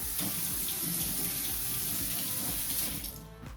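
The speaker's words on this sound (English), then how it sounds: "I'm just gonna wash my hands." Running water from a kitchen sink tap pours steadily while hands are washed, a continuous close splashing hiss that fades out at the end.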